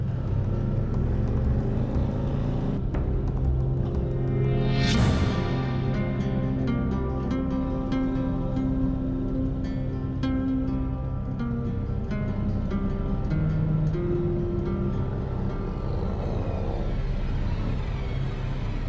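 Harley-Davidson motorcycle filtering through traffic along St Paul's Terrace in Brisbane's Fortitude Valley on a group ride: a steady, loud engine rumble with a sharp whoosh of a passing vehicle early on, continuous and close.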